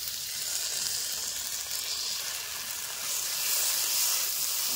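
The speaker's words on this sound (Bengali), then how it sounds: "অনেকক্ষণ ধরে ভাজতে হবে, আদা রসুনের কাঁচা গন্ধটা ছাড়বে" Ginger garlic paste fries in a hot pan with a steady, soft sizzle and hiss that holds on without a break, and no voices are heard.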